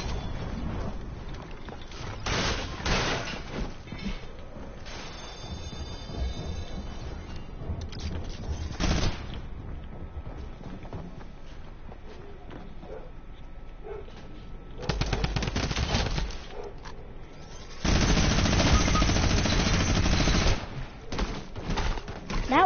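Rapid automatic gunfire from a drum gun in a video game, coming in several loud sustained bursts separated by quieter stretches of game noise.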